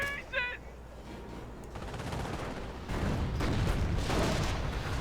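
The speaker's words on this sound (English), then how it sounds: "We have a lot of incoming fire." Gunfire in the World War II strategy game Company of Heroes: a dense, continuous rattle of rifle and machine-gun shots with heavier thuds, growing louder and fuller as the battle sound builds.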